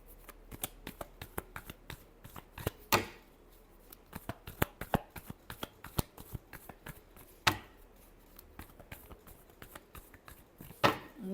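Tarot cards are shuffled close to the listener in quick riffles and crisp flicks, with a few louder snaps at intervals.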